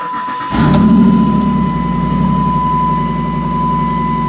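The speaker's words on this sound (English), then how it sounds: "Turn the truck on here for a minute." Engine of a 2007 Dodge Ram four-wheel-drive pickup cranks and catches, followed by a steady, loud, close idle. A constant whine runs through the idle.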